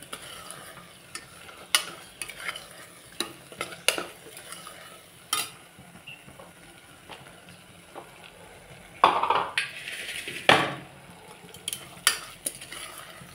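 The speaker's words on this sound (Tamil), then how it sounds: "அதையும் போட்டு நல்லா மிக்ஸ் பண்ணி விட்டுருலாம்" Baby jackfruit biryani with homegrown mint being mixed in a pot, a soft sizzle under repeated sharp ladle scrapes and knocks against metal, with a busier burst of scraping near the end.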